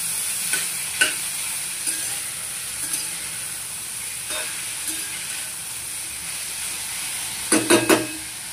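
Cauliflower with garlic and tomato being stirred in a frying pan, a soft continuous sizzle broken by a handful of sharp spoon scrapes and clacks, with a quick cluster of knocks near the end, close by and without speech.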